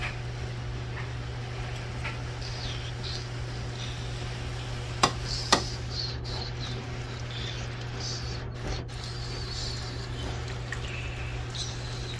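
Spinach being stirred into a pot of Tuscan soup, a soft continuous simmering sizzle with light scraping stir sounds and a couple of sharp spoon knocks against the pot.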